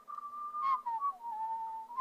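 A single person whistles a short melodic phrase, a clear steady tone wavering up and down for about two seconds, close and fairly quiet, with no other sounds.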